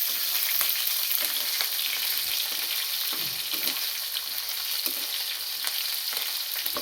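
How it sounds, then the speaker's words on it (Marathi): Green chillies sizzle and crackle steadily as they are sautéed in a pan, with soft scraping from slow stirring throughout and no talking. "आता मिरची परतून घेऊया तिला हळूहळू आपण हलवत आहोत"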